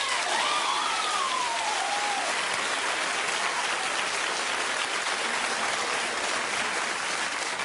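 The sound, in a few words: studio audience applauding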